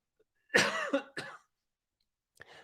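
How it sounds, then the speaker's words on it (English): A single harsh cough close to the mic, followed by a couple of shorter throat-clearing coughs, then near silence with a faint rustle. "That's called the human condition of a cough"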